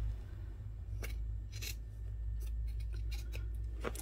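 Scissors trimming sewn fabric close to the edge of a shaped bowl cozy, a series of crisp, close snips in irregular bursts against a quiet room hum.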